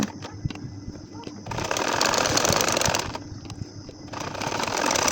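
A sewing machine stitches a baby nakshi kantha quilt in loud, rapid mechanical bursts that stop briefly and then resume, with someone talking at times.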